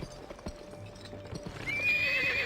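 Horse hooves clip-clop in a western video game, then a loud whinny rises and carries through to the end, with no talk.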